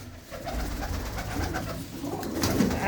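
A small female pigeon with black eyes and dark shoulders coos while held in someone's hands, its low throaty rolling calls close and steady, growing slightly louder toward the end.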